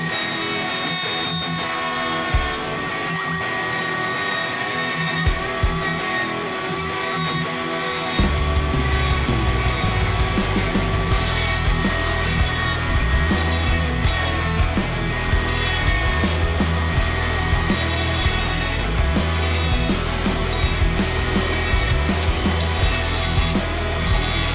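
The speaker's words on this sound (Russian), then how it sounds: "Шлифуем и полируем, как обычно, дрелькой с резиноабразивным кругом." A handheld drill fitted with a rubber-abrasive wheel grinds and polishes a metal part for a scraper sharpening machine, giving a steady, loud, continuous whirring rub that thickens into a heavier grinding tone partway through.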